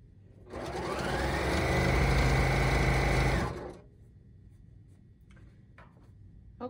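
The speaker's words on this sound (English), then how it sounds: "you should back stitch here at the edge" A sewing machine runs in one steady burst of about three seconds as it back stitches the edge of a toweling tote bag, a close rapid whirring hum, followed by quiet with a few light handling clicks.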